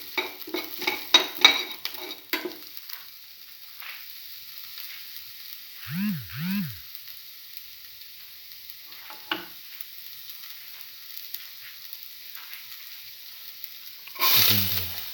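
Beef liver is stirred in a pan with a utensil: brisk clattering scrapes against the metal at the start, then a soft steady sizzle with occasional single scrapes and a louder clank near the end, no voices.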